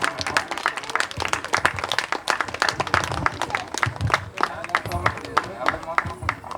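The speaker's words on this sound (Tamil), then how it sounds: "எல்லாரும் கைத்தட்டி ஒரு முறை அவர்களுக்கு வாழ்த்துக்களை தெரிவிக்குமாறு அன்போடு கேட்டுக்கொள்கிறோம்" A village crowd applauds with dense, sustained clapping from many hands, with speech mixed in underneath.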